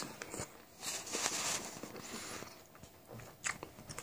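Crisp bites and crunching chews into a raw Annie Elizabeth apple, a cooking variety, close and juicy, with a few sharp crunches in quick succession.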